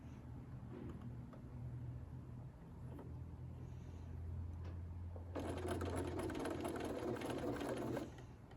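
Sewing machine stitching fabric circles, a low motor drone giving way to a few seconds of fast, steady needle clatter that then stops, alone and fairly quiet.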